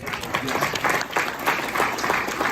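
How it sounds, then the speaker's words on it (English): Audience applause at the Litecoin Summit 2019 crypto conference, a steady, dense roar of many hands clapping that fills the hall evenly from start to finish with no voices on top. "You guys like that? Round of applause?"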